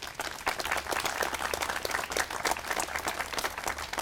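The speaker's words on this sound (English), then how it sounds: "Please give these folks a round of applause" Audience applause at a historical society marker dedication ceremony, steady dense clapping from a crowd filling the whole stretch at moderate level.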